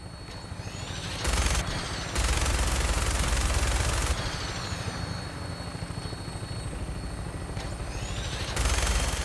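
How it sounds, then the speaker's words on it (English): A helicopter-mounted minigun in Fallout 4 unleashes loud, sustained buzzing bursts of rapid fire, several long volleys over the steady drone of rotor and engine noise, with no voices. "That minigun in front of you is loaded and ready to fire."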